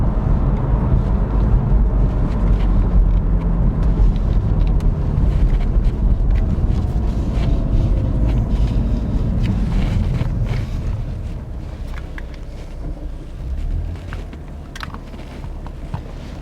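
A 2021 BMW M2 accelerates hard with the windows down, loud engine roar mixed with heavy wind buffeting that eases to a lower drone partway through.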